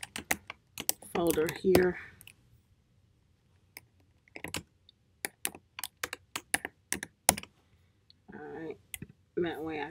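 Typing on a computer keyboard to name a folder, a run of quick, light key clicks in uneven bursts, with brief talking at the start and end.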